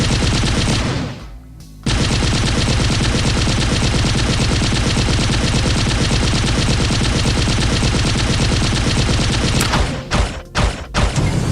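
Machine gun fire in a shooter video game rattles in one long, dense, continuous burst, loud and close, then breaks into a few short separate bursts near the end.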